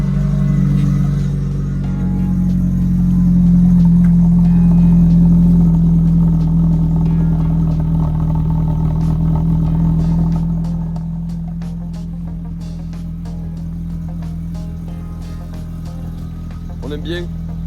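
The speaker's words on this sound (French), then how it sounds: "je vous fais écouter d'abord le cold start" A Renault Clio 2 RS rally car cold starts and settles into a loud, raised idle with a strong low drone, then drops to a steadier, lower idle about two-thirds of the way through.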